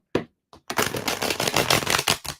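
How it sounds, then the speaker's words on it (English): Tarot cards being shuffled by hand at close range: a short riffle, a brief pause, then a longer burst of rapid crisp flutter and snapping that ends in a couple of quick taps. "Okay, we've got a solid shuffle there."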